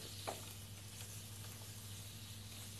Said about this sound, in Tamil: இப்போது சிக்கன் நல்லா வதங்கி வருது